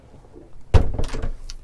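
A cabin door aboard a 2004 Sunseeker Manhattan 50 yacht is pulled shut with a close, solid thunk, followed by a short rattle of the latch and fittings settling.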